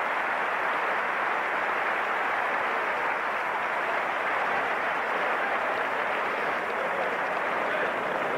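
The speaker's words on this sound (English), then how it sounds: "get a well-deserved applause from the crowd here" Steady crowd applause at a Michigan versus Iowa college football game, a dense even wash of clapping that holds at the same level throughout without pause.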